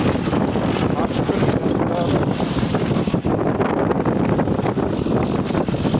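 Strong wind buffets the microphone in a steady, loud roar for the whole stretch, with constant low rumbling gusts and no other clear sounds.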